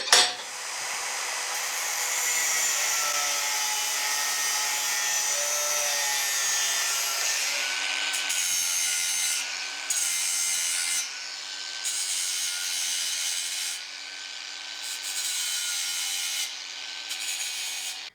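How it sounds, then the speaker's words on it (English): Grinding a motorcycle part smooth, a loud harsh whine with shifting tones that steadies, then breaks into intermittent bursts as the grinder is lifted and pressed again, close up with no talking. "then I'll start grinding it smooth"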